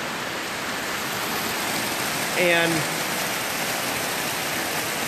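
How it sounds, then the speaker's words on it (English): Water splashing from an outdoor fountain or waterfall at a resort hotel in Orlando, a loud, steady rushing wash close by throughout, with a brief spoken word over it. "there's this gorgeous waterfall. Where is it? Oh, it's behind me. Fountain. Maybe it's a fountain."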